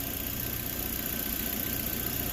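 A Dodge Neon's engine runs steadily just after a head gasket replacement, a constant close, even rumble with a faint high whine and no breaks, no voices over it.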